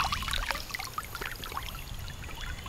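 A dry backpack dunked fully underwater and lifted back out, a continuous close splashing and pouring of water with trickles and drips running off the bag.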